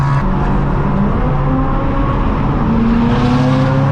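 A straight-piped BMW M4 F82 drones loudly and steadily from its exhaust, close and continuous, with the engine note climbing slightly toward the end.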